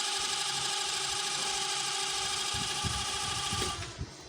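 A 35 W, 230 V AC electric fan runs on its top speed setting while powered from a power station, giving a steady, close motor hum with a constant whir. A few soft knocks land near the end as the level drops.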